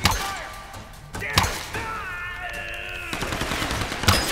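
Gunfire in the action video game Tomb Raider, sharp cracks and a rattling burst of shots mixed with game music and a character shouting over the action.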